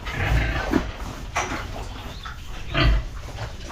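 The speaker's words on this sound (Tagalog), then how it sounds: "Pakain tayong baboy." Pigs grunt and oink at feeding time on a farm, a few loud close snorts rising over steady background noise.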